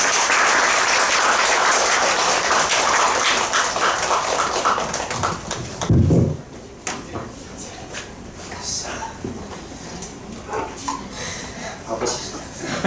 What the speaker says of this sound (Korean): 나올 때 우리 박수로서 환영합시다